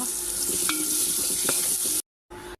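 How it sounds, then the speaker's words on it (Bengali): Vegetables and bay leaf fry and get stirred in a hot pan, giving a steady, close sizzle with scraping stirs. The sound cuts out abruptly near the end. "এগুলো নেড়ে চেড়ে একটু নরম করে নিই"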